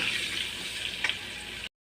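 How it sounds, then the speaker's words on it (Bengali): Potatoes frying in hot oil with turmeric and a little salt, a steady bright sizzle close by with a brief louder spit near the end before cutting off. "দিয়ে ভালো করে লাল লাল করে আলুগুলোকে ভেজে নেব"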